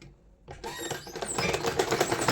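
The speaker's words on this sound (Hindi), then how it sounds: "इसको आप ऐसे सीधी सिलाई लगा लेंगे।" A sewing machine stitches a blouse, starting up after a moment of quiet and then running in quick, rapid mechanical clatter, close by and steady for a couple of seconds.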